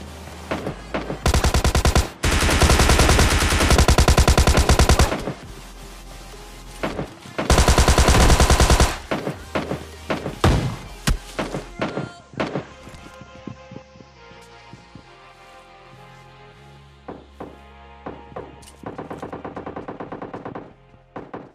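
Gunfight in the mobile battle royale game PUBG Mobile Lite: loud, close bursts of automatic fire in long sustained volleys, then scattered single shots and footsteps. No talking.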